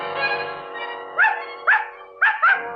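A dog in a radio drama gives a whining, drawn-out whimper, followed by three sharp, close barks spaced unevenly near the end.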